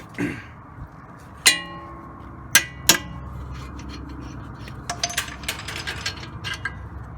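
Metallic clinks and sharp taps of a large bolt working loose from the bottom of a front strut on a 2006 Toyota Avalon XLS, scattered knocks followed by a rapid flurry of small metal rattles, close up.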